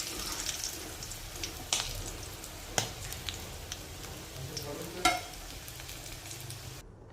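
Chickpeas for chana koliwada fry in hot oil, a soft continuous sizzle broken by a few sharper pops and clatters, ending abruptly in silence.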